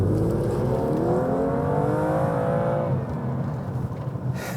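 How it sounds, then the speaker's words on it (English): A 2016 BMW M2 doing a smoky burnout with wheel spin: loud, continuous engine roar climbing steadily in pitch for about three seconds, then dropping back to a steady idle-like rumble. "I've just executed what is apparently called a smoky burnout"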